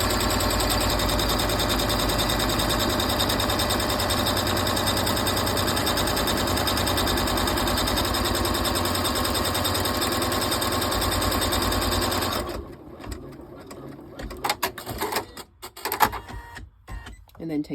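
An embroidery machine tacks down a vinyl appliqué on a zipper purse, humming and stitching in a fast, steady rhythm for about twelve seconds before stopping, followed by scattered handling clicks.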